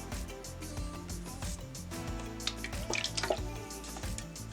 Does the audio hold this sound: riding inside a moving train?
no